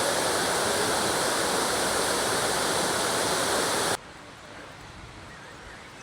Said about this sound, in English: There's supposed to be 100 fountains in this garden.